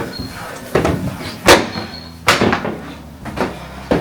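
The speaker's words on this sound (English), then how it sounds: "The landing of this particular lodge was incredibly creaky" Wooden creaks and knocks from footsteps on a holiday lodge's landing floorboards, several irregular thumps spread across a few seconds, close by with faint background noise.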